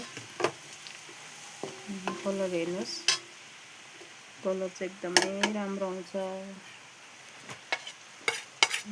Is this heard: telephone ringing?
no